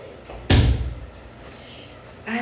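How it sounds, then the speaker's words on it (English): A door is shut with a single sharp slam and a short rattle, loud and close indoors, followed by quiet room tone and the start of a voice at the end. "Let me shut this door"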